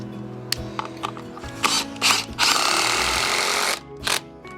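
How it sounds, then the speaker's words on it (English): A power driver sets screws to fix a wooden template on green oak in a carpentry job, with several short whirring bursts and ratcheting mechanical clicks up close. "Screw it into position."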